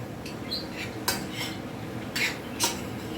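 Spinach sautéed in a pan at home: a spoon clinks and scrapes against the pan in a few distinct strokes over a steady low background hiss, close by, with no talking.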